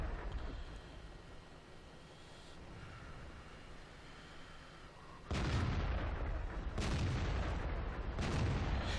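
Heavy tank guns boom in World of Tanks on the Siegfried Line map, a steady rumbling battle bed breaking into loud, close cannon blasts with crashing echoes in the second half.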